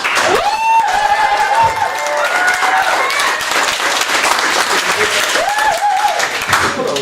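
A startup night audience cheers and applauds loudly and continuously, a dense wash of clapping mixed with whoops and shouts from a packed room, while a host speaks over the crowd through a PA.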